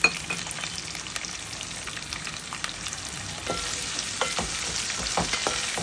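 Three medium onions, sliced lengthwise, sizzle in hot oil in a pan for a murrel fish curry, a steady close crackle with occasional stirring scrapes.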